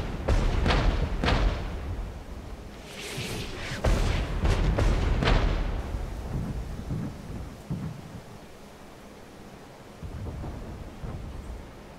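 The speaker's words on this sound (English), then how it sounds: "the artillery is not directly striking those houses" Artillery strikes in the Regiments war game, with repeated heavy booms and rumbling blasts, loud at first and then thinning into distant, fading thuds.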